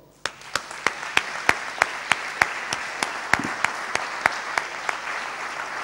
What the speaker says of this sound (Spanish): le damos otro fuerte aplauso